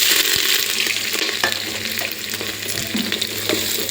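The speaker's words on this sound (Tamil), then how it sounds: "வெங்காயம் நல்லா வதங்கட்டுங்க." Small onions, garlic, green chillies and curry leaves fry in a pan for a Tamil fish curry, giving a steady, close sizzle with occasional stirring scrapes throughout.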